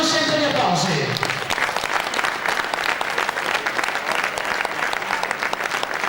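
Steady applause from a crowd fills the air for the winners at a cyclocross award ceremony in Vittorio Veneto, a continuous dense patter of many hands with a voice audible under it at the start.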